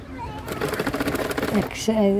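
A sewing machine stitching a dress runs in a brief rapid burst of rhythmic needle clatter while a person talks over it.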